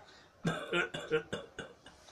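A man coughs and clears his throat in a short series of about five or six hoarse bursts, fairly faint and close, in a stage play scene.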